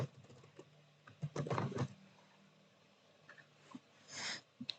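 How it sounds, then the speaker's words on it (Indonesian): Computer keyboard typing at a terminal, a few quiet scattered keystrokes and a short burst of clicks, fairly close and faint. "Jadi mengetik sudo service nsm status."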